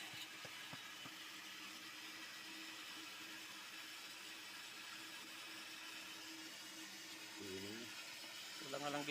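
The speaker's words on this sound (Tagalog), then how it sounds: "Ito guys, booster pump lang to." A water booster pump motor runs with a steady, even hum and whine throughout, fairly loud and constant, with a couple of brief louder bumps near the end.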